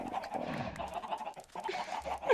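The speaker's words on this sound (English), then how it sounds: "we have a bit of a situation with all these chickens" Video game chickens cluck and squawk in a busy flock, irregular bursts of clucking overlapping close by at moderate volume.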